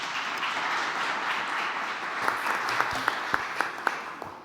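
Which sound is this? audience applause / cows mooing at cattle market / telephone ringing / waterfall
audience applause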